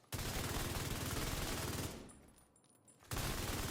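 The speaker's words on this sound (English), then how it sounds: "I'm going to just show you as I keep firing this gun" Rapid gunfire from a Big Horn rifle in Division 2, loud and continuous bursts, a pause of about a second mid-way, then firing resumes.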